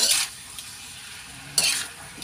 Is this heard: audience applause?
no